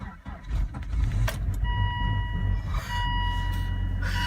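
A Volvo V70XC at minus 12 degrees with a weak battery cranks over on a cold start, a loud, close, labored churning that runs almost continuously, with a brief high whine in between.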